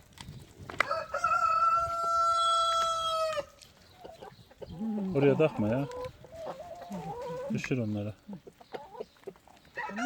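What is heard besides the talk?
chickens and roosters clucking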